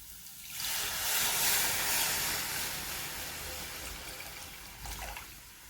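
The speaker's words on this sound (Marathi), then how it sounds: "आता याच्यात आपण पाणी ओतत आहोत" Warm water poured into a pot of amla rasam, a steady close splashing pour that swells early and runs continuously before tapering, with no talk over it.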